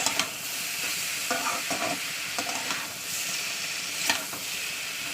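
Boiled snake gourd is stir-fried on a high flame, a loud steady sizzle and hiss with intermittent scraping strokes of a spatula, no speech.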